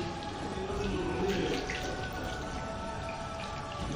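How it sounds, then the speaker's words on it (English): Tap water runs steadily over hands during a final rinse at a sink, a continuous close splashing wash with no voices. "make sure you rinse your hands and allow everything to go off"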